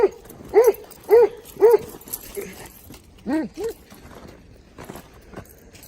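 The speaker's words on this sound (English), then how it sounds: "won't stop barking" A dog barks repeatedly nearby during a snowstorm, a quick run of three loud barks followed by a few softer ones, with some quiet footsteps or movement.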